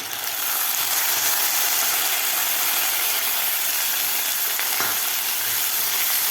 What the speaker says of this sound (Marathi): मसूरसुद्धा आपल्याला व्यवस्थित खालच्या मसाल्यामध्ये व्यवस्थित मिक्स करून घ्यायचं आहे